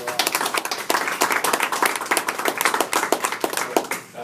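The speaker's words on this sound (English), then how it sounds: "please give a round of applause for Eric" A round of applause for Eric at a career event, close and fairly loud, with dense irregular hand claps from a modest crowd sustained throughout before thinning at the end.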